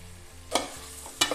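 Tomatoes tip into a pan of frying onions for chicken dum biryani, bringing two short bursts of sizzle and stirring against a low background hum.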